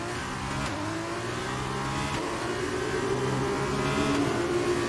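Race car engine in the F1 23 video game roaring continuously through a tunnel, loud and close with a sustained revving drone and echoing rumble, no talk over it.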